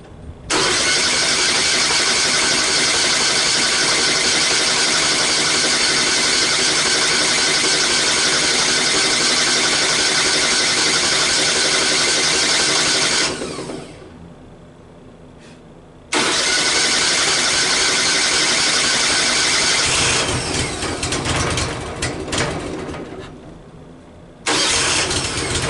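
A small gasoline engine on a log-sawing rig fires up after choking and runs loud and steady, cuts out briefly for a few seconds, then restarts and keeps roaring with some rough, uneven revving.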